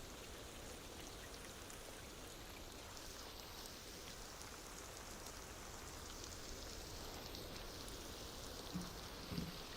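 Steady, soft rain patters evenly in an Apple Vision Pro virtual environment, a faint continuous hiss of drops with no voices and only a slight thump near the end.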